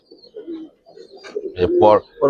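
Pet racing pigeons coo softly in short murmuring phrases, close by, with a louder throaty burst near the end; someone talks over parts of it.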